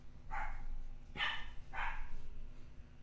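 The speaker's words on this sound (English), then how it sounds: "She's barking loud, too." A dog barks loudly three times at close range, sharp separate barks spaced across a few seconds, with no talk over them.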